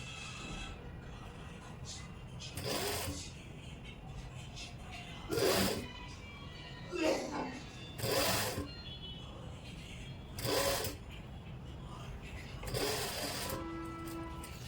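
A sewing machine stitches frilled lace onto a dupatta in short separate bursts of a few seconds each, with quiet pauses between them and a faint hum underneath.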